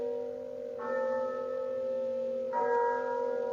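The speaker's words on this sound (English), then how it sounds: "But as the bell sounded," A deep bell tolls the hour with two slow strikes, about two seconds apart, each leaving a long humming ring that hangs in the air, fairly soft and alone.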